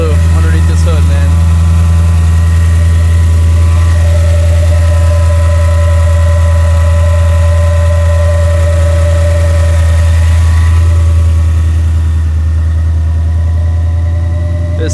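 A Whipple-supercharged 2024 Ford Mustang GT V8 idles while warming up, giving a loud, steady, low rumble with a constant hum and faint whine above it. The sound is close and unchanging for the whole stretch.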